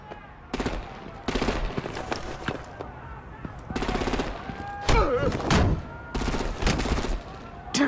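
Video game gunfire from Telltale Batman, rapid bursts of shots in repeated volleys, loud and close, broken by short gaps, with a voice speaking partway through.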